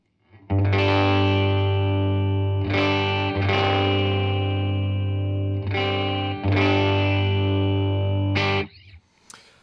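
A clean electric guitar plays sustained chords through effects, ringing with a slight shimmer; several strummed chords let ring, then stop.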